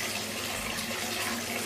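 Tap water runs steadily into a bathtub for a bath bomb soak, a continuous close gushing and splashing with no voices.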